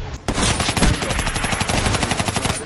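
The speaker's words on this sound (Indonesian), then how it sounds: "Andri terkena satu tembakan yang membuatnya mengalami sekarat" Rapid automatic gunfire rattles in a film, a loud close burst of repeated shots that keeps going, with no talking over it.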